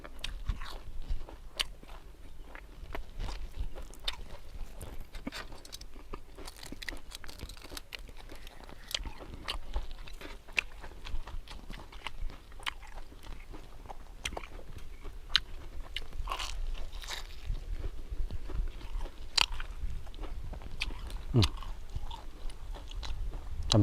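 Loud crunchy bites and chewing of grilled sausage stuffed with lemongrass, close and continuous, with irregular crisp crackles over about twenty seconds.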